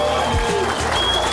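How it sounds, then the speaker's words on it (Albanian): A Prishtina crowd at an election rally gives strong applause, a dense, continuous wash of clapping that stays loud and close throughout. "dua një duartrokitje të fortë nga Prishtina"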